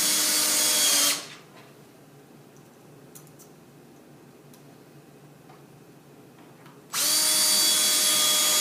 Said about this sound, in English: Simply take your screws, go into the pre-drilled hole.